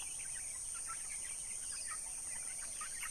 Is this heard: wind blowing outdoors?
no